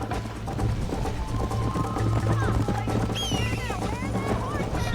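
Hooves of horses galloping in a race in the Red Dead Redemption video game, a continuous rapid clip-clop with a whinny, under game music and some talk.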